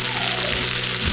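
Garlic sautéing in an Instant Pot, a short burst of dense, even sizzling, close and fairly loud.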